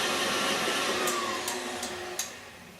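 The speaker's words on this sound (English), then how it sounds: "when I use my mixer like this" An electric hand mixer whips a fluffy blueberry mixture for a creamy blueberry torte in a home kitchen, a steady whirring motor hum with a few faint clicks, close and without talk.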